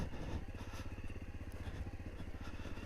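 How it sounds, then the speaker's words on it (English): A farmer's quad bike engine runs in a field, a low, steady pulsing drone of rapid combustion beats at moderate distance, fairly faint and constant throughout. "Look at it there with the farmer quad bike."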